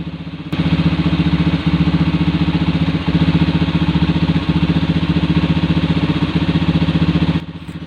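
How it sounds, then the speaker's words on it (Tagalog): A carbureted motorcycle engine idles while warming up before carburetor tuning, a steady, close, rhythmic low putter that starts abruptly and runs evenly for about seven seconds before cutting back down. "dapat painitin nyo na muna yung makina"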